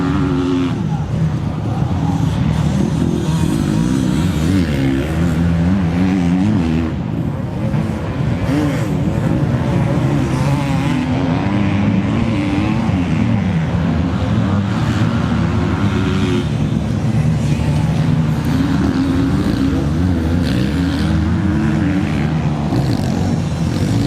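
Motocross bikes racing on a dirt track at an open national round, engines droning and revving continuously, loud and fairly close, with faint commentary underneath.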